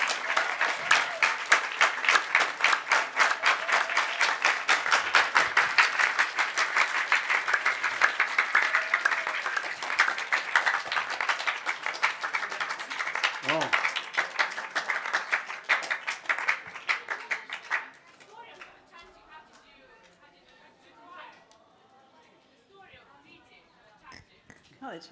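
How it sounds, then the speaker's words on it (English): A large audience applauds loudly and steadily for about eighteen seconds at a devotional gathering in Jaipur, then the clapping abruptly drops away to a quiet room with faint scattered sounds. "So once again, big round of applause and appreciation from Mother"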